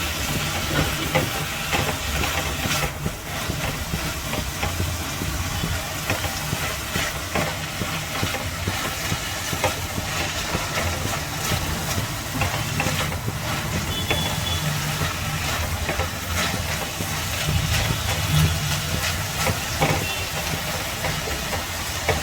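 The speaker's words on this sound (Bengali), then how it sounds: "ভাজা চলছে।" Spices sizzle and hiss steadily in a hot pan while paneer butter masala is being made without onion or garlic, a dense, even crackle that stays close and continuous throughout with no talking.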